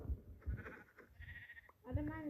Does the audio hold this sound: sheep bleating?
yes